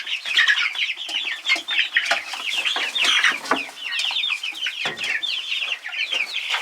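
Small Rhode Island Red chicks cluck and chirp almost without a break, a busy, lively chatter of quick high peeps and clucks close by, with a few brief scuffles and one faint flap of wings.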